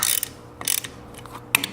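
A wrench clicks through short ratcheting turns on the case bolts of a Baker's Dozen Hobbit engine bottom end under assembly, three brief bursts of close, crisp mechanical ticking separated by pauses.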